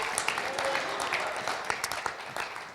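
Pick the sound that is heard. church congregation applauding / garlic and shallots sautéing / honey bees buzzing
church congregation applauding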